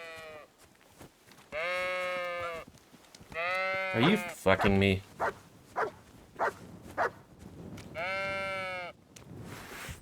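Sheep bleat in the medieval game Kingdom Come: Deliverance II, with three long, loud, wavering calls spaced across the scene and a barking dog between them, while a man mutters once.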